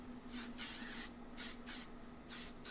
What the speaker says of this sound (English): Spray on the forehead, the cheeks.